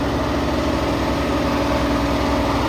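A steady, loud car engine drones at constant pitch while one of four black cars races to overtake a truck, with a throaty low rumble and no clear rise or fall in revs.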